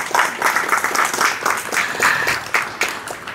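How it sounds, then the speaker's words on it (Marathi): Enthusiastic applause from the audience at a Diwali lamp festival and Annakut gathering, steady dense clapping that fills the whole stretch with overlapping hands and no break. "तर अजून एकदा जोरदार टाळ्या परत"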